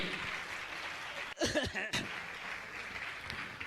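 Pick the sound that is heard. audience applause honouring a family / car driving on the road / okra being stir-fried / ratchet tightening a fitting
audience applause honouring a family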